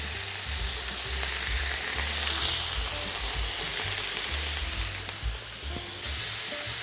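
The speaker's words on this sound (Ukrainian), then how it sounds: "І тепер котлету перевертаємо на цибулю." A burger patty sizzles loudly in a pan as it is flipped onto frying onions, a dense steady crackle of frying that holds close and strong throughout, with no voices.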